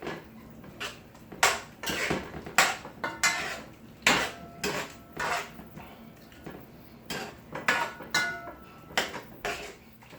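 A spoon stirs sugar into brown stewed beef in a pot, giving repeated close scraping and clinking strokes against the pot in an uneven rhythm, with no talking.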